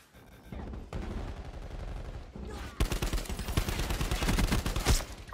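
Galil assault rifle fired in the video game Black Ops 4, rapid automatic bursts of gunfire, loud and close, running almost continuously in two long volleys with a brief pause between them.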